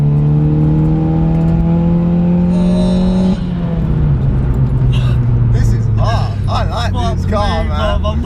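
A stage 2 Audi S1 engine rises in a loud steady rev, then drops at a gear change and builds again while driving, heard from inside the car with people talking over it.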